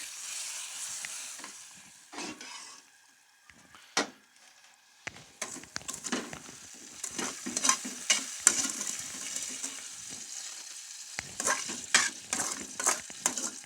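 Sheer khorma being stirred in a pan, with scraping spoon strokes and soft sizzling in irregular bursts, close and moderately quiet, with a few pauses between stirs.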